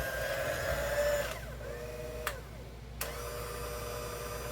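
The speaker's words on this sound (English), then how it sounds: "Yeah, this mixer is doing a great job" KitchenAid stand mixer beating chocolate chip cookie dough, a steady mechanical whir that runs loud for over a second, then drops away with two brief clicks before the motor hum returns at a lower level.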